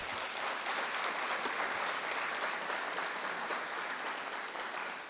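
An audience at a university system address gives staff a round of applause, a dense, even patter of many hands clapping at moderate distance, steady for the whole stretch and easing slightly at the close.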